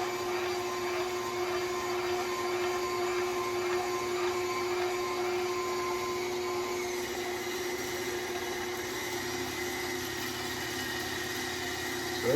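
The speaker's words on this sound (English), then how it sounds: "so I'm gonna see if I can grind it on a KitchenAid" A KitchenAid stand mixer grinding brisket meat gives off a steady, even motor whir with a faint whine, holding constant throughout at close range, no voices over it.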